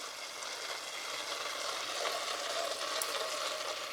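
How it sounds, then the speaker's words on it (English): Oil sizzling in a pot while cooking vegan jollof rice, a soft, even frying hiss held close and steady for several seconds with no talk. "I'm going to go ahead and add my oil now"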